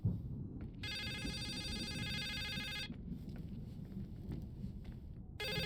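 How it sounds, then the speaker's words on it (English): A telephone rings in the video game The Suicide of Rachel Foster, loud and close, in two electronic bursts: a long ring of about two seconds, a pause, then a second ring starting, over a low ambient rumble with no talking. "Of course the phone rings as I leave the room."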